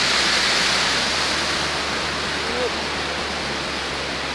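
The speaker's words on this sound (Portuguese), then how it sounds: "Chegamos a um riozinho aqui, ó." A small river runs beside a trail through Atlantic Forest in the Serra da Bocaina, a steady loud rushing wash of water with a waterfall nearby, filling the whole stretch without pause.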